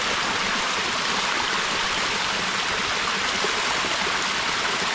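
A mountain stream on an island rushes steadily, a dense, even broadband wash of flowing water heard up close and unbroken from start to finish, with no voices.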